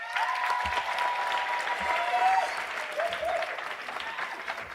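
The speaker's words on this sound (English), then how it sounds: "Give your valedictorian, your salutatorian, another round of applause." A graduation crowd applauds the valedictorian and salutatorian with sustained, dense clapping throughout, steady and fairly loud in a large hall.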